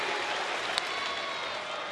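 A baseball stadium crowd in a Mariners game at Texas gives a steady, broad roar of cheering and clapping, with one sharp crack standing out briefly over the sustained noise.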